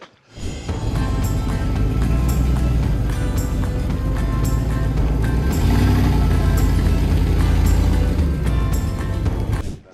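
A four-wheel-drive vehicle with the drive locked in hauls an old van on a stretchy recovery rope, its engine a loud continuous drone close by with faint rattles and knocks over about ten seconds.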